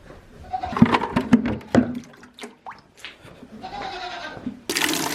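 Fresh water pours and splashes into containers for goats and chickens on a homestead at night, with goats bleating nearby between bursts of running water.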